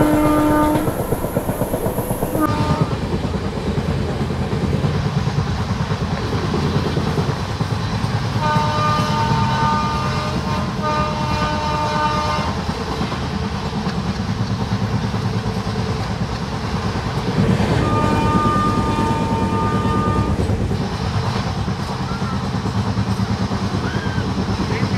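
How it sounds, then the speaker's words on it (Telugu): A passenger train slowing on approach to a flooded bridge, its wheels and carriages rumbling steadily throughout, with a few long horn blasts rising clearly above the running noise. "సో మెయిన్గా ఇప్పుడు మన ట్రైన్ అయితే స్లో చేసుకున్నాడు."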